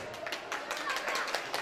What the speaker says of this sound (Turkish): Geline damada alkış rica ediyorum.